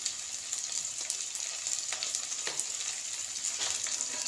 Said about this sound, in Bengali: প্রথমে ভালো করে চিংড়িটা ভেজে নিতে হবে